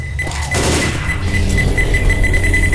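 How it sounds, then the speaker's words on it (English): Pipe bomb going off in Left 4 Dead 2 on The Parish, a loud blast that sets off a rattling barrage of gunfire-like bangs over a steady beeping tone. "Throwing a pipe bomb."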